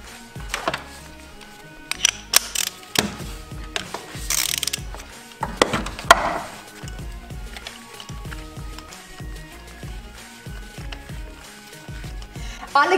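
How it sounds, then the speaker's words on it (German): Spark plugs are ratcheted out of a BMW M50 engine in an E36 325i, with bursts of rapid ratchet clicking, metallic clanks and tool handling close by, interrupted by brief pauses and occasional faint voice. "Die Zündkerzen nehme ich auch gleich raus."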